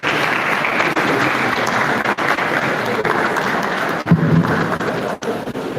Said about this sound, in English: the round of applause for this